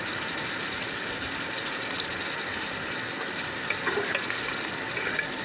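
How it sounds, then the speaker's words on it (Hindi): Water pours steadily into a pan of frying potatoes and minced keema, a continuous rushing gush that lasts throughout with no speech. "अब इसमें पानी शामिल करेंगे ताकि आलू गल जाए"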